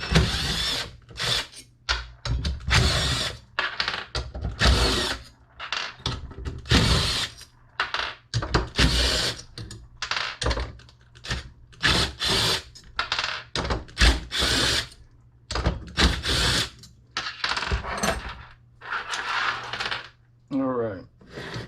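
A power tool gun zips off the fasteners on LS engine coil packs in repeated bursts of whirring and clicking, with metallic clinks and handling noises between runs, close and fairly loud.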